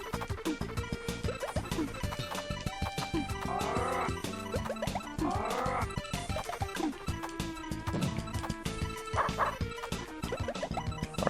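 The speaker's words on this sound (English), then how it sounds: "Bark." Dog-like barks and yips ring out from the Tetris Attack video game, several short bursts over busy, continuous game music and effects.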